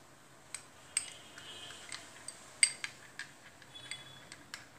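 Egg and lemon hair mask being mixed in a bowl, a string of light clinks and ticks as the utensil strikes the bowl, quiet and close, with no talking.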